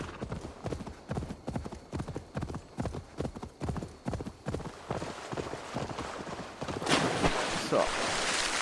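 Horse hooves clip-clopping in a steady, rapid rhythm as a horse is ridden in Assassin's Creed Valhalla on PS5, loud and close, with game ambience swelling near the end.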